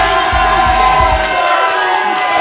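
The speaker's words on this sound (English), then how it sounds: "You can hear the crowd is jazzed." An arena crowd at a Philadelphia Soul arena football game, loud and close, roaring and cheering in a sustained, excited wash of shouts.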